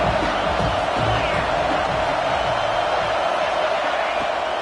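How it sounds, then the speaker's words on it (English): Stadium crowd at a college football game roars steadily on third down, a dense, loud wash of cheering and shouting from many voices throughout. "This crowd knows when to bring it."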